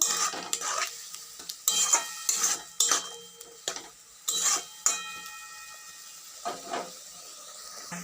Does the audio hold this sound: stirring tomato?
yes